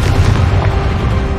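A Confringo blasting spell explodes in Hogwarts Legacy combat, a loud, dense booming blast with heavy low rumble sustained throughout, no voices over it.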